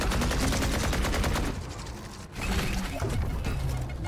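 Rapid gunfire during a competitive Valorant match: a dense, loud burst of repeated shots that eases briefly and then resumes, with clicks and mechanical game sounds mixed in.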